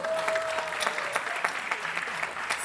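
Audience applause for the performers of a comic stage play at a spring festival, a steady dense clatter of many hands sustained throughout without a break.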